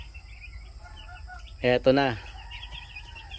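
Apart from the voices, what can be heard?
young chickens clucking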